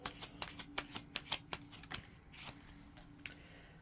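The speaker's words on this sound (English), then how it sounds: "Let's shuffle and see what else comes out." Rapid riffling bursts of tarot cards being shuffled, a quick series of crisp flutters close by, then softer scattered card sounds and a final snap.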